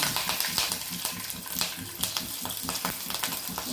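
Cumin seeds and green chillies crackle in hot oil, a close, busy sizzle with sharp popping bursts and some stirring, no voices over it.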